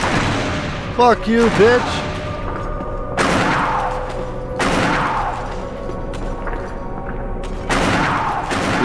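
Heavy gunfire in Resident Evil bursts out in repeated loud booming volleys over music, with excited voices talking and swearing between and over the shots.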